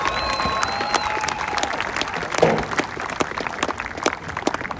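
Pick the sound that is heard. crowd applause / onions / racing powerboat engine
crowd applause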